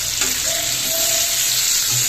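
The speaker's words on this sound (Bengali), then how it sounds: "তেলের মধ্যে দিলে ছিটে উঠে যায়" Steady crackling sizzle of spices frying in hot oil, close and continuous, with no voices.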